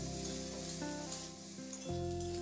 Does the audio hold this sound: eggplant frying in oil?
yes